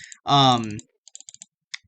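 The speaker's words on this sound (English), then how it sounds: "gosh, I cannot think while I'm double clicking." A computer mouse clicks in quick, light taps, a short cluster of clicks and then one more, after a brief voiced sound.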